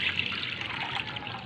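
Fresh water pours and trickles into a container for a pet chicken, a close, steady splashing stream.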